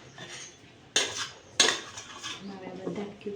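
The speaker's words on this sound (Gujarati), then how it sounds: "અહીંયા એક વાસણ આપણે મૂકી દેવાનું." While making homemade aloe vera soap, a metal vessel is set down with two sharp clanks a moment apart, followed by lighter scrapes and rattles, close by and with no talking.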